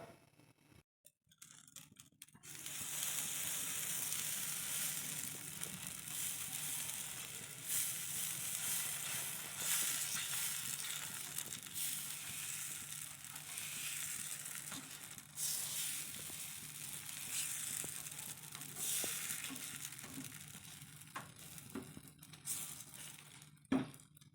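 Dosa batter sizzles on a hot pan for an egg dosa, a steady loud frying hiss that builds after a quiet start, with occasional clinks and scraping of utensils, no talking.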